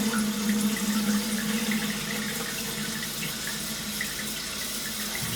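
A concealed toilet cistern refills: steady rushing and trickling water, a continuous flow with a low hum, no voices.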